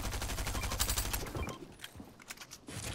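A Stinger SMG fires in a Fortnite-style squads match, a rapid close burst of gunfire that runs continuously for about a second and a half, then breaks into scattered shots and distant pops.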